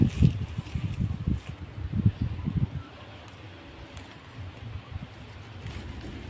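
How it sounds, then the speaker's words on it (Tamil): Strong wind gusts through curry leaf trees, a close buffeting rumble for the first few seconds, then easing into a quieter steady blow. "காற்று பயங்கரமாக அடிக்குதுங்க."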